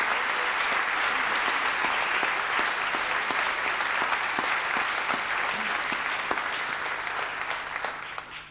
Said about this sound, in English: please give yourselves some well-deserved applause, and I invite the rest of the audience in joining me to applaud your efforts